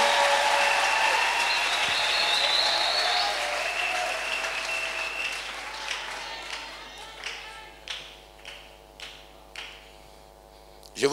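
Church congregation applauding the Lord, a sustained wash of clapping that thins out into separate claps and scattered taps toward the end.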